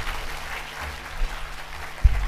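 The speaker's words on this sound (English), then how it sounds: "ladies and gentlemen, another round of applause to our speakers and also our moderator" Applause from an audience at a youth economic forum session, honoring panel speakers and their moderator; a soft, steady patter of clapping from a seated crowd, moderately quiet, with a couple of louder close claps near the end.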